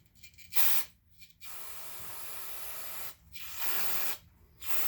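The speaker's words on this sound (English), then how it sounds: "A little bit of carb cleaner here." Carb cleaner sprays onto a GM 2.4 Twin Cam engine block in several close, forceful hissing bursts of a second or more, separated by short pauses.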